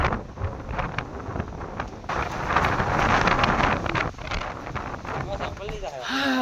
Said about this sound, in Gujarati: પવન ગજબ છે ભાઈ